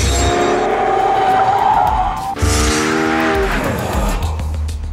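A Lexus LFA sports car drives hard, its engine revving up in a rising harmonic howl, briefly dropping at a gear change, then climbing again with tyre noise underneath, loud and close.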